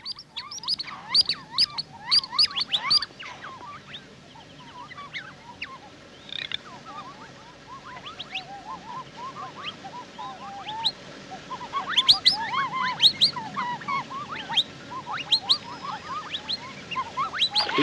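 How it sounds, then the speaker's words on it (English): Calls of an African white-backed duck, a small duck sitting still on water, come as a run of rapid, varied chirping and rattling notes, steady and close, with a drake garganey's rattle faintly behind and no speech. "the African white-backed duck. This quiet-looking little duck sits still in the water, looking rather like a frog, and makes these fascinating noises"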